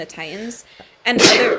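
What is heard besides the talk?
sneeze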